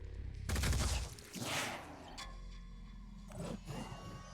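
Weapon fire in Phoenix Point, a loud dense burst of shots with a second blast soon after, then a quieter stretch of game ambience and a smaller report near the end, with no voices.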